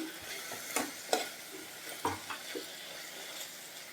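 Close, intermittent scraping of a spoon stirring a thick capsicum masala curry in a pan, with a few sharper clinks against the metal and a soft sizzle underneath.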